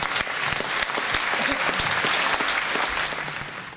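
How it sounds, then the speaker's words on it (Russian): A concert audience in Sevastopol applauds a visiting vocal ensemble from Yaroslavl. The clapping is full and sustained, with dense hand claps filling the hall for the whole stretch. "Ваши аплодисменты."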